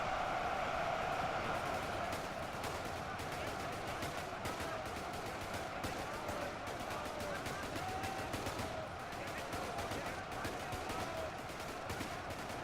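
Video game troops fire guns in a continuous, dense battle din, with crackling shots and distant rattle layered under a steady roar of combat noise that runs throughout.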